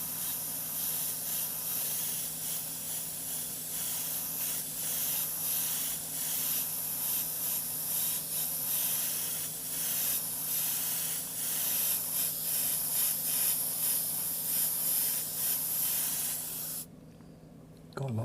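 An airbrush sprays paint in a continuous, close hiss that runs almost unbroken for a long stretch, with faint fluctuations in the stream, before cutting off briefly near the end; no one speaks.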